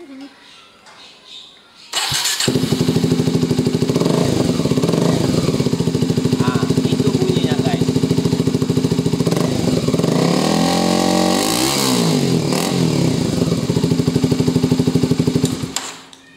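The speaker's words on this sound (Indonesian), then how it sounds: "saya suka dengan knalpot ini. Knalpotnya Austin Racing, sudah saya pasang DB Killer." A Kawasaki Ninja 250 SL motorcycle fitted with an Austin Racing exhaust and a dB killer fires up after a couple of quiet seconds, then idles loud and steady close by, with one brief rev blip near the end before it cuts off.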